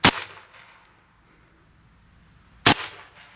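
Two sharp, loud reports from an HDR 50 CO2 gun ring out about two and a half seconds apart, each followed by a short hissing tail and quiet background between.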